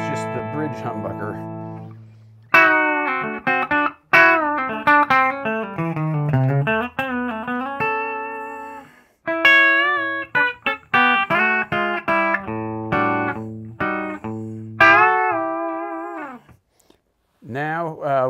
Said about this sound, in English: So bridge humbucker, mild distortion.